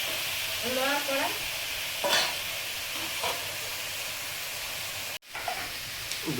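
Half-fried vegetables and shrimp mixed with salt and turmeric sizzle steadily in an iron wok, with scraping stirs now and then and a brief voice near the start.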